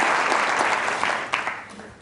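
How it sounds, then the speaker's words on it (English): Loud audience applause during a stage magic and mentalism show, a dense roar of clapping that holds strong and begins to taper slightly toward the end. "Give them a round of applause"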